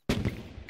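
A single loud gunshot goes off in the video game Sushi Roll: Just Act Natural, a sharp blast followed by a short decaying tail.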